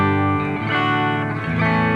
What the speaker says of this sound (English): we just want a really nice, clean amp sound